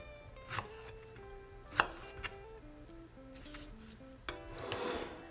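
Knife cutting through fresh strawberries on a cutting board, a few soft, separate chops and slices spaced across the moment, close and fairly quiet over faint background music.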